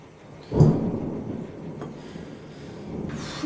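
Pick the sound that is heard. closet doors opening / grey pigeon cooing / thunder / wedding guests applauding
thunder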